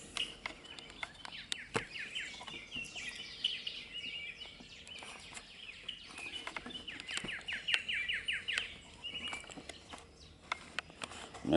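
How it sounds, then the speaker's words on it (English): Birds chirp at a garden feeder in a busy, irregular chorus of quick tweets at moderate distance, broken by occasional sharp taps and clicks. "I have to feed the birds."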